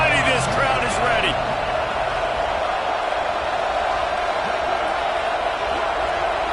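A packed football stadium crowd at a Georgia vs Ole Miss game roars steadily as a dense, sustained wash of cheering from afar, with a commentator talking over it near the start.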